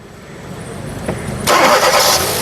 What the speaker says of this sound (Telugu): సింగిల్ సెల్ఫ్లో కార్ స్టార్ట్ అవుతుందండి